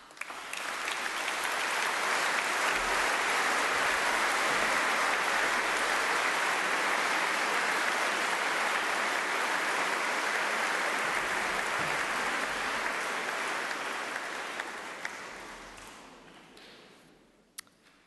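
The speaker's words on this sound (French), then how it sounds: "nous pouvons applaudir maintenant" Applause from a congregation at a church ordination, a dense sustained wash of clapping that swells quickly, holds steady, then fades out toward the end.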